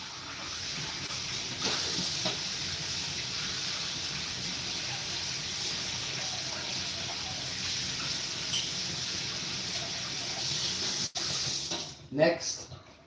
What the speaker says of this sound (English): let's wash out this cup